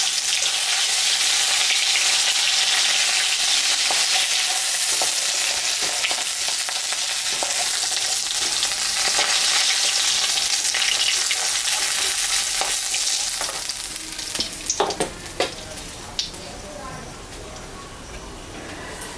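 Snakehead fish pieces fry in hot oil with a loud, dense sizzle close by, easing off toward the end as a few sharp clinks and scrapes of lifting come through.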